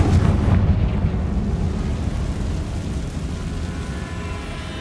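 Confringo blasting spell from Hogwarts Legacy: a loud, deep explosive boom that erupts at once, then rolls off into a long rumbling tail that slowly fades.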